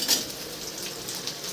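Onions sizzling steadily in hot oil in a pan while being fried for chutney in a village kitchen, a close, continuous crackling hiss with faint utensil clinks.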